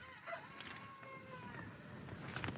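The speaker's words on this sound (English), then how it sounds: "I'm camped right next to the chickens and the cockerels going mental." Roosters crow and chickens cluck nearby at about 5 AM beside a campsite, several birds calling over one another against a faint background hiss.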